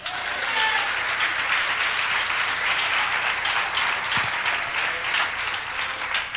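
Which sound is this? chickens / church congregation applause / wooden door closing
church congregation applause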